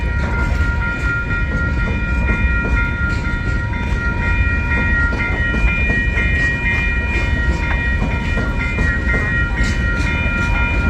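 A freight train rolls past nearby in St Paul, a loud, continuous rumble of wagons with steady wheel and rail noise and faint metallic squeals running throughout, with no voices.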